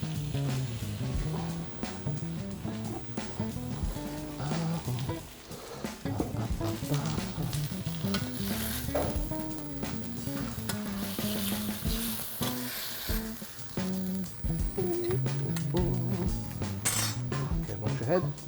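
Miso-marinated black cod fries skin side down in a pan, a soft sizzle under clinking utensils and pans, while people talk over the cooking throughout.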